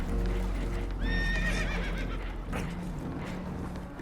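Spooked horses whinny on a damaged, leaking boat in the Red Dead Redemption 2 video game, one loud high neigh rising over a low rumbling engine drone, followed by a few hoof clops.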